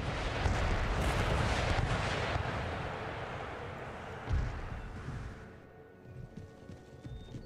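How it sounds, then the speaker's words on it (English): Howitzer artillery fires in a battle in the video game Empire Total War, heavy booming thuds over a rumbling din, with one sharper blast standing out partway through before the noise settles lower. "we are getting some howitzer shots off."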